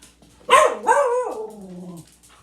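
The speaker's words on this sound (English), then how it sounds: "These dogs." A dog gives a close, loud yelping bark that slides into a drawn-out whining howl, heard alone in a quiet room.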